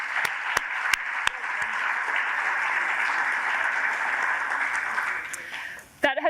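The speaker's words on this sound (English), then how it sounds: "Can I please get a big round of applause to all 6 speakers?" A conference audience gives a big round of applause for six speakers: a few sharp early claps swell into sustained, even clapping that fades out near the end before a voice returns.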